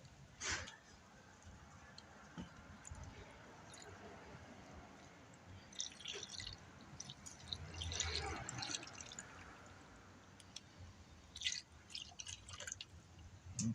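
Fuel trickling through a funnel into the tank of a fuel-injected Bandit motorcycle, a soft continuous gurgle and drip with faint handling knocks, fairly quiet and close.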